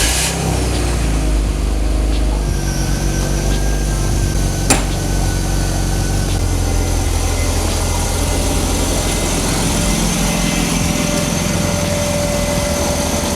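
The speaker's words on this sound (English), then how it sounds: "we're gonna just start up the car real quick." A new car's engine runs close by at a steady, buzzy idle, with a single sharp click partway through and no voices over the constant drone.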